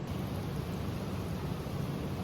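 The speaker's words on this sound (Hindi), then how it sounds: "अभी तो काफ़ी लाइट हो गई है बारिश" Light rain falling after a heavy morning downpour, a soft steady wash of hiss and patter with a low rumble underneath, even throughout and without talk.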